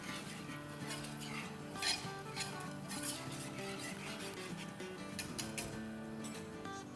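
Chicken sauce thinned with about four tablespoons of pasta water is stirred in a pan for chicken ravioli: continuous close scraping and spoon-against-metal clinks over a soft, steady sizzle, with no talking.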